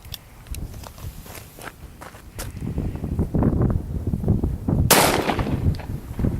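A Taurus Judge revolver fires a single sharp shot outdoors at a milk jug about 20 yards away, after several seconds of shuffling and rustling movement nearby.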